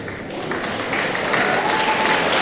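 At a school award ceremony, an audience claps in a steady, dense, fairly loud roar of applause that holds for the whole stretch without pause.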